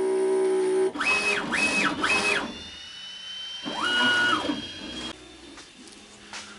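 UV printer print head shuttling rapidly back and forth during a nozzle check, heard as several whining motor sweeps rising and falling in quick bursts, then a longer pass, fairly close with a faint steady tone underneath.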